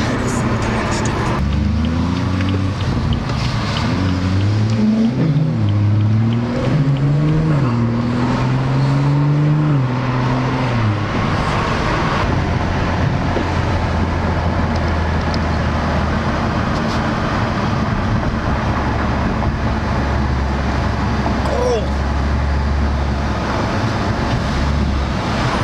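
A Porsche 991.2 GT3 with its exhaust open revs loudly up close, its engine note climbing and falling in repeated surges before it settles into a steady, deep rumble.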